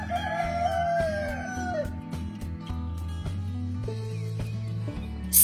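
A Marans hen on a farm calls with rising and falling clucks and a drawn-out squawk. A dog whimpers and barks, and a steady low farm drone runs underneath.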